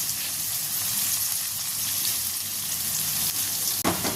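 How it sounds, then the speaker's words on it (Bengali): Onions hiss and sizzle as they fry lightly in hot oil, a steady dense crackle running close and loud throughout, with a brief stir or clatter near the end. "পেঁয়াজটা দিয়ে পেঁয়াজটা হালকা আমি ভেজে নেব"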